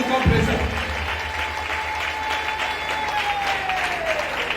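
Church congregation applauding and cheering in praise to God, a sustained wash of clapping from a large crowd, with voices calling out amid the applause.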